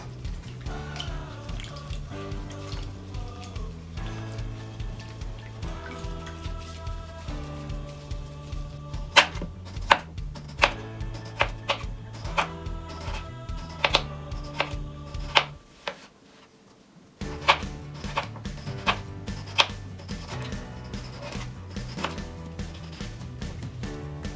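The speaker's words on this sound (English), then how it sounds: "I'm going to slice it up" Knife slicing raw pork on a cutting board, repeated sharp taps of the blade striking the board in an uneven rhythm, close and clear over a faint steady hum, pausing briefly midway before the cuts resume.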